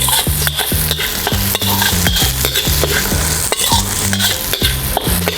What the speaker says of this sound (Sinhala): ඒකත් මම මේ විදිහට fry කරගන්නවා ටික ටික